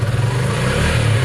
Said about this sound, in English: Listen to the engine.